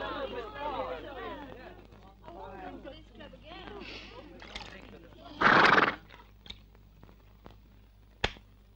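A horse whinnies loudly indoors amid a crowd. Its hooves clop on a hard floor, and a sharp knock or stamp follows. People's voices and murmuring run underneath throughout.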